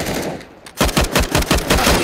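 Rapid automatic gunfire in Counter-Strike: Global Offensive, loud, close bursts of shots in a fast rhythm after a brief quieter moment, with no talking.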